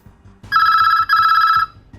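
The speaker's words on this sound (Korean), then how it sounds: "다시 울리는 전화벨" An old telephone bell rings loud and close in two long bursts of bright trilling, separated by a short gap, against a quiet background.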